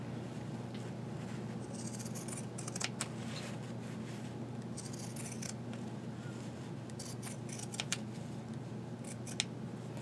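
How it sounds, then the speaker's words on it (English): Pinking shears with zigzag blades cut through fabric in several bursts of crisp, close snipping and crunching, faint against a steady low room hum. "you can get these pinking shears, which are basically a zigzag bladed scissor."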